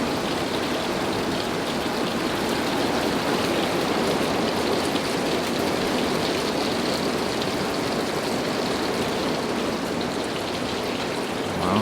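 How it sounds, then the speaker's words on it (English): Heavy rain pours down outside, a dense, steady hiss of drops hitting surfaces that stays loud and unbroken throughout, with no voices over it. "I mean, that is some profound rain."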